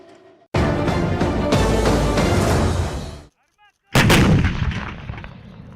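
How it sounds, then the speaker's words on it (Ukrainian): Large-calibre coastal defence guns fire during an exercise on the Black Sea near Mykolaiv: a loud, sustained roaring blast, a brief quiet gap, then another sharp heavy report that rings and decays. "Днями Чорне море з боку Миколаєва обстріляли з великокаліберних гармат"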